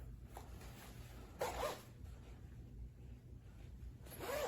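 A quick zipper pull rasps once, then again near the end, faint and close against a quiet room hiss.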